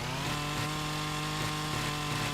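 A chainsaw idles and runs in the video game No One's Land, a steady, harsh buzzing engine drone with a slight rhythmic pulse, close and continuous throughout.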